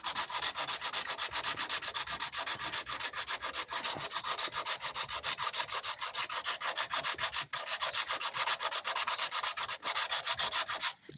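Steady, continuous hand sanding with 80-grit paper on fiber filler over boat gelcoat during a center console hull repair, a close, loud rasping scrub that runs without pause and with no talking.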